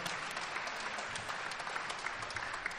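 Audience applause for the author Boris Akounine at an interview event, a steady dense wash of clapping that stays even and fairly quiet throughout, with no voices over it.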